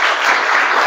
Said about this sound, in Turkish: Ziyadımız da Volkan arkadaşımız da bir alkış.